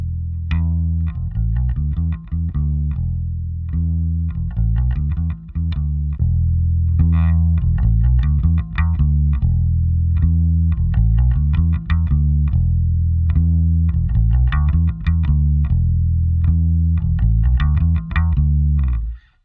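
Bass guitar played through an optical compressor pedal on a worship bass pedalboard, with a steady run of plucked notes that stays loud and even, slightly effected, and no talking over it.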